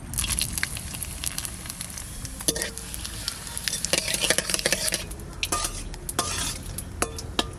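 Loud, crackling sizzle of dry chillies and bay leaves frying in mustard oil in a kadai, with scraping stirs and occasional metallic clinks of a utensil against the pan.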